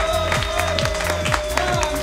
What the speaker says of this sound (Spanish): Fuerte el aplauso para Bambino